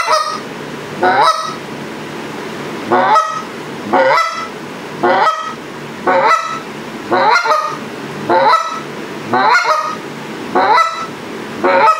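Goose call fitted with FLEX guts, blown in a series of about nine mellow, hollow honks at a steady rhythm, close and loud with brief pauses between.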